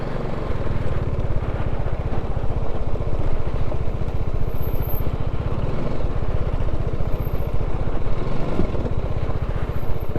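A sports motorcycle engine runs steadily and loudly throughout, rumbling close by as the bike descends a wet, slippery off-road mountain track in the Himalayas near Om Parvat.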